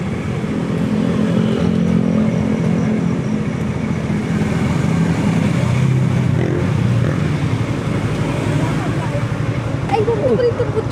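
A motorcycle with a newly bought exhaust pipe rumbles and revs loudly and close for the whole stretch, while people talk over the engine.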